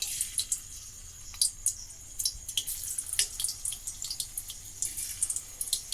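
Hand-cut potato slices fry in hot oil, French-fry style, each slice dropped in one at a time. The oil gives a steady, close hiss with irregular crackles and pops, and there is no talking.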